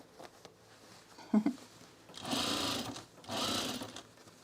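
A sewing machine stitching a French seam on trousers runs in two short bursts of steady whirring, close and clear, after a few soft handling clicks, with no talking.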